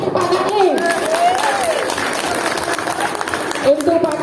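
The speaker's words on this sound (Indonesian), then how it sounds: "Tepuk tangan untuk Pak Kaling." A church women's fellowship gathering breaks into sustained applause for an elderly man's birthday, even clapping filling the room while a voice speaks over it.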